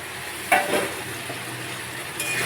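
Fried ingredients are stirred into a sizzling poppy seed and mustard spice paste, a soft continuous frying hiss broken by two sharp spoon-against-pan scrapes and clinks.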